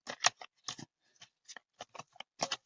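Oracle cards shuffled by hand, a series of quiet, crisp riffling bursts in an uneven rhythm separated by brief silences, close and soft.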